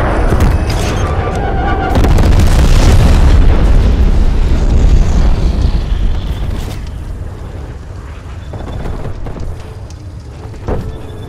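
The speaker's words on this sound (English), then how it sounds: "Enemy napalm strike incoming." Napalm strike explosions in Call of Duty: Black Ops Cold War: a heavy rumbling blast swells early, then rolls and crackles before fading into lingering wind-like roar with a few small pops.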